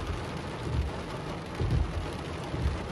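Heavy spring rain pours steadily during a thunderstorm in Big Bear, a dense wash of noise with low rumbles swelling near the middle and end.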